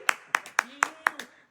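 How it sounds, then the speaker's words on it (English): At a ceilidh, five or six sharp, evenly spaced hand claps ring out in a steady rhythm, close and distinct, with a faint voice underneath. "gotta clap louder"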